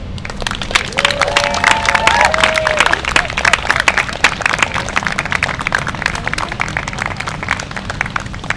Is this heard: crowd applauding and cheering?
yes